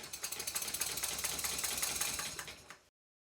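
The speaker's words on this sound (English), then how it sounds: "I turned on the compressed air to run the engine" A Stuart Twin Victoria model steam engine runs on compressed air, giving a fast, even mechanical chuffing and tapping rhythm at close range that stops abruptly.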